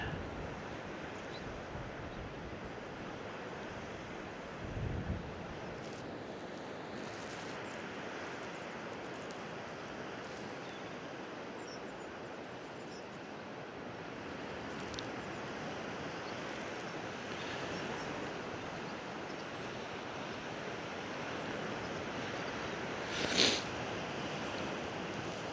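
Steady wind buffets the microphone on the coast at St Lawrence, Isle of Wight, a continuous broad rushing roar with a few brief gusts and knocks throughout, and no talk.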